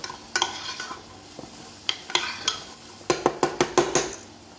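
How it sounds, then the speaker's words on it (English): Cranberries being stirred in a pan for cranberry sauce: a spoon scrapes and taps the pan in a run of sharp, close strokes that cluster quickly near the end, over a faint sizzle, with no talking. "Then I'm going in with my cranberries, okay? Just give that a turn, like so."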